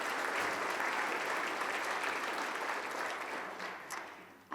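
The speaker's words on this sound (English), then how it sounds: "Give yourselves a round of applause for participating in that." A crowd applauds at a city State of the City address, steady broadband clapping that holds for over four seconds before tapering off at the end.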